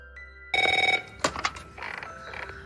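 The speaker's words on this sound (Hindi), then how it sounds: "उसका फोन बार बार बजने लगता है" A telephone rings with a loud, rapid electronic trill lasting about half a second, followed by clattering handling sounds and a softer, warbling ring.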